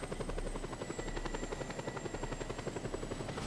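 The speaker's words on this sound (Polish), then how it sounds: "Dobra, widzę helikopter wroga." Helicopter flying in Just Cause 2, its steady rapid rotor chop pulsing throughout at a constant loud level, with a high whine running on top and no voices.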